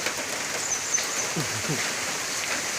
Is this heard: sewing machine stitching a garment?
no